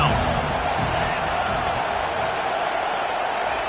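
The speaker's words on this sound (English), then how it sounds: "Decibels rising as the crowd gets behind this defense on 3rd down" A football stadium crowd at a big conference game roars behind the defense on third down, a dense, constant wall of cheering and whooping that stays loud throughout.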